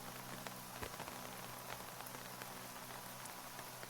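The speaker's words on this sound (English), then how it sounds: "there's the rain so it can help out my crops" Steady rain falls in the zombie survival game Terminus Zombie Survivor, a dense, even patter of drops on surfaces with a few sharper ticks, continuous and alone throughout.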